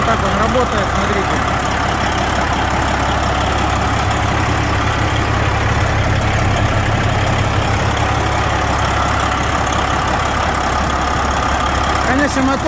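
A heavy truck engine, in a truck built to haul about 50 tonnes, idles steadily and loudly up close, a constant low rumble with a rattly texture and no change in pace.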